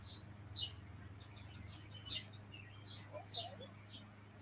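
Faint, sparse bird chirps arrive in three or four short bursts over a steady low hum, thin and high, with no talking.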